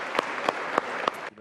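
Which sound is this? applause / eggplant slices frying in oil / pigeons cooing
applause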